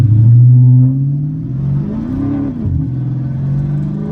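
A loud Dodge Challenger SRT 392 Scat Pack engine revs low, climbs in pitch as it pulls hard away from a stop sign at night, then settles into a steady rumble.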